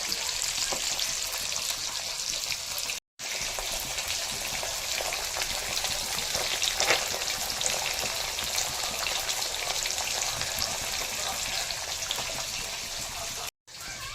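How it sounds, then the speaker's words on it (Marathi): Fish pieces fry in hot oil until crisp and red, a steady close sizzle and spatter running throughout, cut by two brief drops to silence. "आता याला आपण खरपूस लाल होईपर्यंत तळून घ्यायचं मस्त मस्त तेलात कडक असं"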